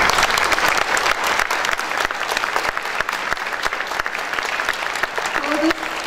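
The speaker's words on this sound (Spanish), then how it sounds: "aplausos primero para sus papás" An audience at a children's and youth piano competition claps in a sustained, lively round of applause, with a voice briefly rising near the end.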